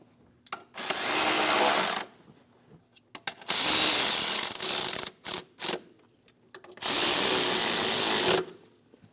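Power tool snugs the throttle body bolts on a 3.6L Jeep Grand Cherokee, giving three loud, close bursts of whirring about a second each, with short clicks and quiet gaps between them.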